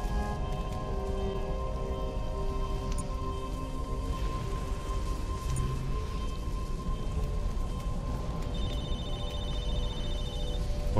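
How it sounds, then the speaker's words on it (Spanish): A telephone rings in Halo 3: ODST, a faint, evenly pulsed electronic tone near the end, over a steady bed of heavy rain ambience. "Teléfono."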